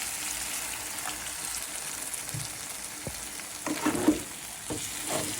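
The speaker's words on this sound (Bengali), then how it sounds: "এটার সাথে ভাজা ভাজা হতে থাক" Prawns and green chilies frying in a pan for a bhuna, a soft continuous sizzle with occasional scrapes and stirring clatters toward the end, close and moderately quiet, no talking.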